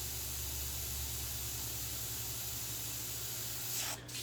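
An airbrush sprays paint for a freehand signature, giving a steady, close hiss that runs without a break and cuts off near the end.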